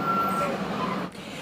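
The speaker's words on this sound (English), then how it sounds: "When Whitney Simpson sees the buses pull away from RISA, it's bittersweet." School buses pulling away from a school sound as a steady truck-like engine rumble with a repeating reversing beep, fairly close, and faint voices in the background.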